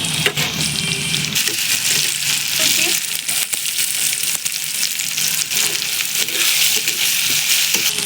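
Chopped onion frying in oil with ginger paste, cumin paste and whole cumin seeds, a dense, loud, continuous sizzle with occasional stirring clicks, close up with no voices.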